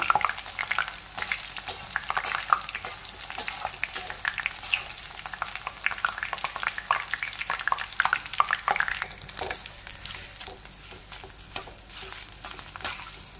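Gram flour sev pressed by hand into hot oil fries with a busy, crackling bubbling sizzle and irregular stirring clatter, close and fairly steady before easing slightly near the end.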